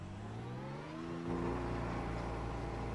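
A race car in a racing video game pit lane approaches with a rising engine whine, then settles into a steady, close engine drone, fairly quiet with no talk.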